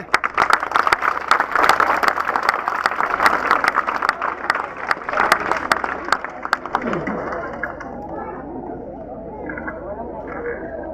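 Audience clapping at a felicitation ceremony held at a Zilla Parishad school in Bankot, a burst of sharp, lively claps that thins out after several seconds as voices talk over the fading applause.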